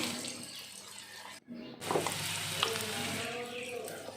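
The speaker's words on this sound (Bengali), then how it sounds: "এখন আমি কড়াইতে তেল দিয়ে দিলাম, আর একটু পেঁয়াজ লঙ্কা রসুন সব একবারে কষিয়ে নেব" Onion, chilli and garlic fry in oil in a wok with a soft, continuous sizzle and stirring, briefly interrupted by a short gap, then resuming with a slightly fuller crackle.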